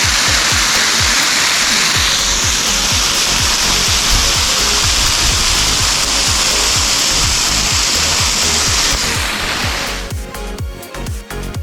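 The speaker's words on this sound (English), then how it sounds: "So we just found this little waterfall here, kind of around the corner." A small waterfall around a canyon corner roars in a loud, steady broadband rush near the microphone, easing off slightly at the end.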